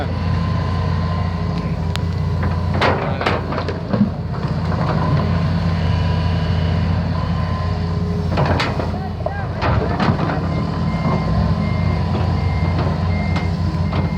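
A stone-delivery truck reverses with a steady series of loud backup beeps repeating through the scene, its diesel engine rumbling underneath, while people talk nearby outdoors.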